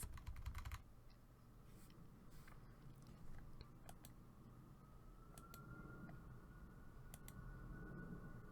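Computer keyboard keys tapped in quick, light clicks, an opening burst followed by scattered single presses, close and quiet against a soft background hum.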